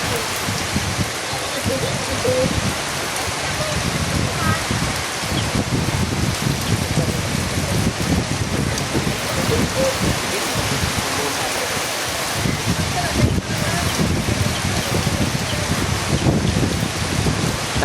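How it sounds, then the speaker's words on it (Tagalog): Heavy typhoon rain pours down steadily in Legazpi City during Typhoon Uwan, a loud, dense, unbroken roar of falling water drumming on surfaces. "Medyo nadagdagan yung lakas ng ulan kaysa kaninang alas 7:30."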